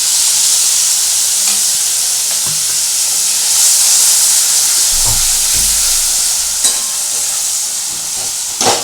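Tomato masala for a spicy kaikka (garfish) curry fries in hot oil in a pan, giving a loud, steady sizzle and hiss with a few stirring knocks and scrapes along the way, and no one speaking.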